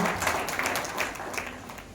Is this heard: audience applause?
yes